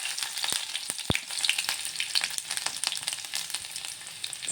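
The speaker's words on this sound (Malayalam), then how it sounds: "നമുക്ക് ഇതിനകത്തോട്ട് നമ്മുടെ ഇഞ്ചിയും വെളുത്തുള്ളി ഇട്ട് കൊടുക്കാം." Ginger and garlic crackle and sizzle in a pan for a white bitter gourd thoran, a busy, popping fry close up with occasional taps of a stirring utensil.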